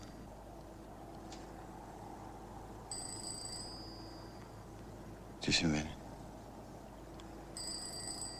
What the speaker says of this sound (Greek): Όλοι ψάχνουν για κάποιο τηλέφωνο που χτυπάει.